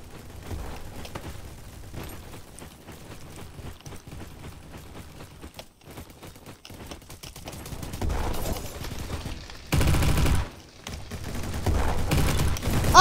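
Rapid gunfire from the Roblox shooter Bad Business, sustained bursts and volleys of shots with mechanical clicks, growing louder and denser toward the end with no talk.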